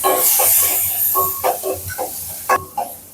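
Mustard seeds, cumin, onion, curry leaves and dried red chillies hit hot oil for rasam tempering, giving a steady close hiss with several short crackling sizzle bursts and soft stirring, no talk.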